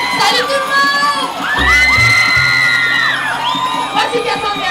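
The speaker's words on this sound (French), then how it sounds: "Sous vos applaudissements!" A school audience of children cheering loudly, with high shouts and whoops rising over a dense crowd roar that stays near and strong throughout.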